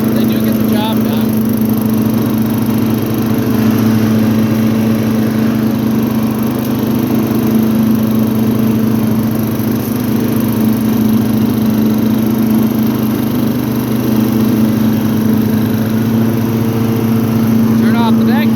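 An MTD riding lawnmower with a 12.5hp Briggs and Stratton engine runs steadily nearby, a loud, constant low drone that holds level throughout.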